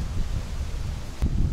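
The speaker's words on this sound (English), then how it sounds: "It's really windy." Strong wind blowing outdoors in South Florida during Hurricane Irma, a continuous rushing roar with buffeting gusts against the microphone and a brief sharp knock partway through.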